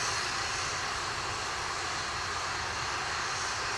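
Atlas V 531 rocket engines roar during launch ascent about half a minute into flight, a loud, steady, broadband rumble and hiss that fills the whole clip without letup.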